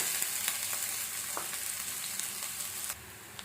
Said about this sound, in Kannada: ಸ್ವಲ್ಪ ಎಣ್ಣೆ ಬಿಸಿ ಆದಮೇಲೆ ಚಿಕ್ಕದಾಗಿ ಕಟ್ ಮಾಡಿಟ್ಕೊಂಡಿರೋ ಈರುಳ್ಳಿ ಹಾಕ್ಕೊಳ್ತಾ ಇದ್ದೀನಿ